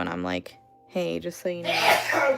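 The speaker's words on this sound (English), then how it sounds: "He hasn't sneezed as much, right?" A single sharp sneeze bursts out at the end, right after someone speaks in a casual conversational tone.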